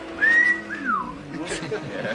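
A man whistles a short tune close by, a held high note sliding into a falling swoop, with faint background sound and a little murmur underneath.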